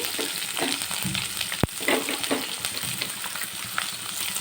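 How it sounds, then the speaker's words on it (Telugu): Chopped onions fry in a hot pan with a dense, continuous sizzle and occasional stirring scrapes, plus one sharp knock of a utensil against the pan partway through; no voice is heard. "ఇప్పుడైతే చిన్నగా కడిగి పెట్టుకున్న ఆనియన్స్ని వేసి వేయించుకోవాలి"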